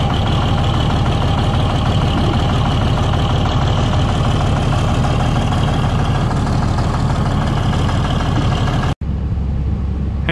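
A diesel tractor engine with a new injection pump and injectors idles loudly and steadily up close, a rough, knocking rumble with a brief cut near the end.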